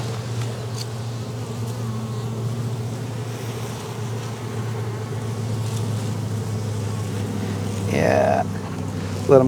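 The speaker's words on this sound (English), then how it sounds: "Picking up the bees off the ground, especially with a queen." Honeybees from a lost hive buzz in a steady, droning hum as they are gathered off the ground with their queen, close and continuous, with a brief louder flurry near the end.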